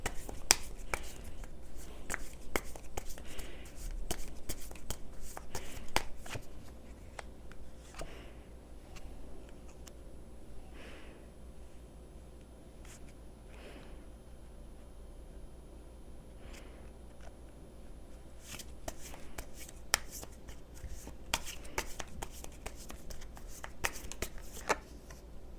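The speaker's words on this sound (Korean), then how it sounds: "좋은 카드 좀 더 뽑아볼게요." Tarot cards are shuffled and drawn during a couple's love reading, a run of close, dense riffling and flicking bursts broken by quieter gaps, with little talk.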